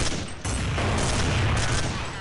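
Loud, dense gunfire in a video game, with sniper rifle shots booming close together into a continuous barrage for the full two seconds and no talking.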